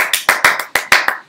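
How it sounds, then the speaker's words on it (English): A small group claps together in a few loud, close, sharp bursts, roughly five or six claps in a ragged rhythm, with no talk over them. "Everybody clap simultaneously."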